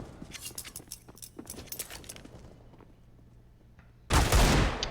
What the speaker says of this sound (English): MPR showing the Deagle power once again